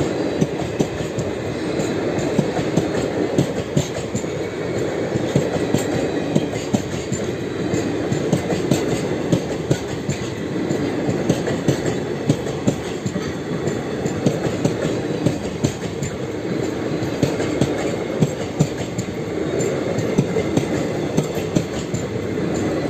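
Porbandar–Shalimar parcel train hauled by a WAP5 electric locomotive in Fortune livery, rolling past steadily for the whole stretch with continuous rumble and clickety-clack of wagons, some faint wheel squeal, no voices.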